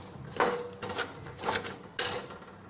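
Peanuts dry-roasting in salt in a pan, giving a few distinct crackling pops and clinks spaced irregularly, close and fairly quiet, with no one talking.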